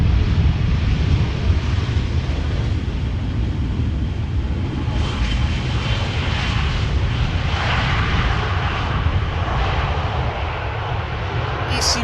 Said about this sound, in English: 16-year-old airplane, first flight October 2007